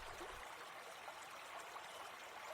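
River water flowing at Praia-free riverside setting in a children's story: a soft, steady stream trickle, faint and continuous with no voices.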